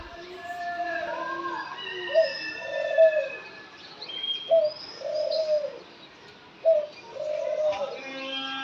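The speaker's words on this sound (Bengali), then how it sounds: "চলুন আপনাদের সুন্দর একটা জিনিস শেয়ার করি ঘুঘু পাখির ডাক" A dove calls repeatedly in soft, hollow coos, several phrases in a steady rhythm, fairly near and clear over a quiet background, with a few chirps from other birds mixed in.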